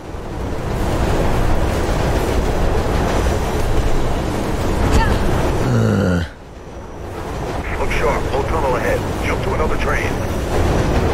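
A train rushes along in the Mirror's Edge video game, giving a loud, continuous windy roar that dips briefly midway before building again, with voices talking over it.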